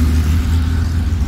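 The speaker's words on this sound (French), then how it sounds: "Et derrière arrive une Porsche 911 2 litres." A classic Porsche 911 2-litre at a vintage car rally, its engine giving a loud, steady low rumble and drone as it passes close by.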